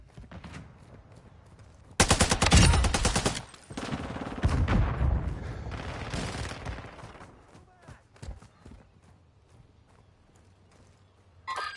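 Gunfire in Call of Duty Modern Warfare 2: a loud, dense burst of automatic shots, then further rapid rounds and scattered single cracks fading into quieter battlefield ambience, ending with a short sharp report.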